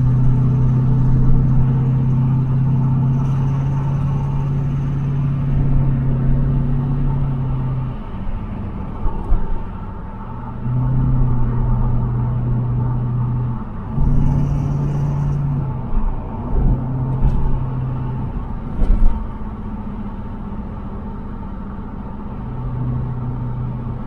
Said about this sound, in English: anyway, it's running and driving.